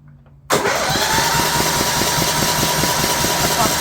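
A John Deere LT150 lawn tractor with a Kohler 15 HP engine, known to have serious issues, cranks and fires abruptly after a brief quiet moment, then settles into a loud, close, steady running rumble.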